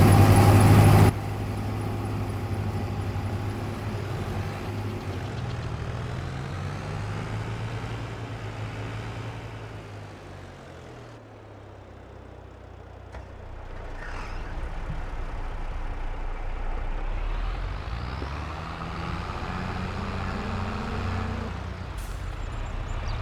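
Truck engine from the 150 in Farming Simulator 22 as it drags a trailer onto a field, a steady low drone that dips around the middle and swells again as it pulls, with a brief hiss near the end.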